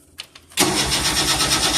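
A 1988 Tennant 255 Series 2 engine cranks without starting: two brief clicks, then a loud, steady, rhythmic starter churn running close up and alone.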